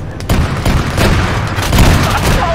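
Dense, continuous gunfire from several weapons hammers at an armoured personnel carrier in the military shooter Arma 3, a loud, rolling fusillade with booming impacts that runs almost unbroken throughout, no speech on top.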